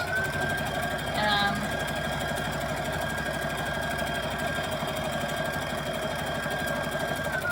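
A sewing machine runs steadily while stitching a dress seam, its rapid even needle chatter continuing without pause from start to finish, up close, with faint background sounds over it.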